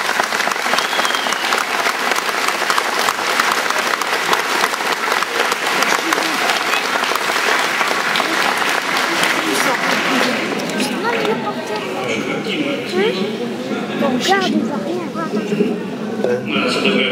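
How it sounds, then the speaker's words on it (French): Sustained applause from a crowd at the 2006 French Watten card championship, steady and dense throughout, with some voices and cheering emerging toward the end. "on peut les applaudir."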